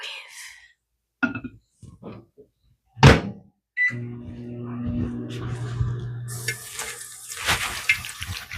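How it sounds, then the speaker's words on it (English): A microwave oven hums steadily for several seconds while reheating baked donuts, its low drone starting after a few scattered clunks and handling noises, then joined by louder rustling near the end. "Okay, back into the microwave."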